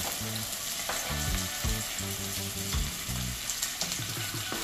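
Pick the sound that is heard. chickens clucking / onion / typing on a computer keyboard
onion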